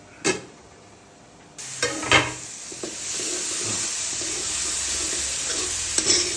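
Ingredients for Maggi noodles fry in a pan with a continuous sizzle, joined by several clanks and scrapes of stirring against the pan.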